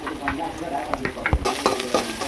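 Onion and chili dropped into a pan for lemon egg rice, a close sizzle with a few spoon scrapes and clinks, brightening sharply halfway through as the frying picks up.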